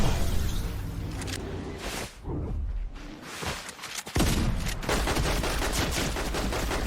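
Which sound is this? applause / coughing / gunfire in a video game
gunfire in a video game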